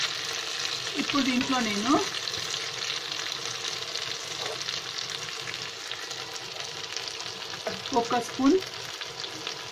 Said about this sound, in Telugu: వంకాయలు సగం వరకు ఫ్రై అయ్యాయి